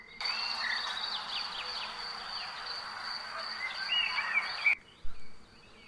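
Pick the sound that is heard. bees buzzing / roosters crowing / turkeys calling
bees buzzing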